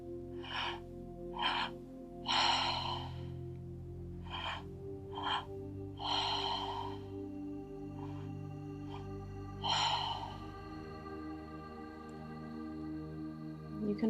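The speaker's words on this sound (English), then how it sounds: "one breath in through the mouth first into the belly, and another big breath in through the mouth into the chest, and one big breath out through the mouth." Slow, deliberate breaths drawn in and pushed out through the mouth, a series of airy inhales and exhales spaced a few seconds apart, close and soft over a steady low drone with no talking.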